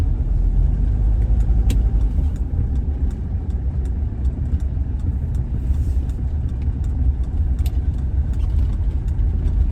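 A car driving along on a rainy day, its engine running steadily with a constant low rumble and road noise throughout, fairly loud and close, with a few faint clicks above it.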